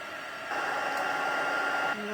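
Heat tool warming old embossing powder on a wedding shaker card, a steady blowing hiss that swells louder for about a second and a half before easing back, with no talk over it.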